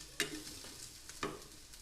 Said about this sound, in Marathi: सगळ्यात शेवटी याच्यामध्ये थोडीशी कोथिंबीर टाकून मिक्स करून द्यायचं आहे